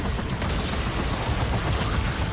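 Dense, continuous gunfire and explosions from the video game Gears of War E-Day, a loud unbroken wash of shots and booms with no voices over it.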